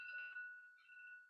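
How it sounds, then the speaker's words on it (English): An electronic alarm beeps faintly in steady high tones, a short sustained chirp that fades and comes back briefly, with no voices. "this is an alarm"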